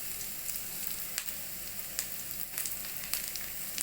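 Green chillies frying in a pan while making Kanpur-style Maggi noodles give a steady, close sizzle with occasional crackles and pops, with no talking.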